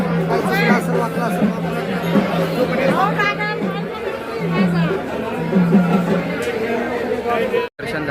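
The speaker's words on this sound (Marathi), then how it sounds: "गर्दी बघा, पट्टे गर्दी आतमध्ये जायला." Steady babble of many people waiting in line inside Tuljapur temple, loud overlapping voices nearby with some louder calls rising above the murmur.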